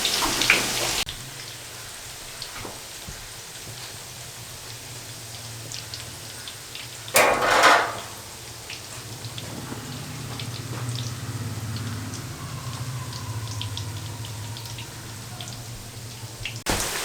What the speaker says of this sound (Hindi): इसको फ़ौरन ना छेड़ें, इसको ऐसे फ्राई होने दें।